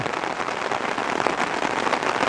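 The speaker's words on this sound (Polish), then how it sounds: "No i po robocie teraz zaczęło padać." Rain begins to fall on a work yard after a job with a new wheelbarrow, a dense, steady hiss of drops pattering close by with no talk.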